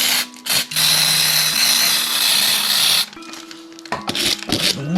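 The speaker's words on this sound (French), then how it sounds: "on peut frotter avec une brosse en métal, qui est comme ça" A metal wire brush scrubs a bike chain in a loud, close, rasping burst lasting a few seconds, followed by quieter scattered scraping and clinks.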